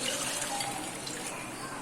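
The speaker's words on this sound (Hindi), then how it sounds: "पानी को भी डाल दिया है मैंने।" Water poured into a cooking pot of aloo gosht on a full flame, a steady gushing splash of liquid lasting throughout, soft and even in level.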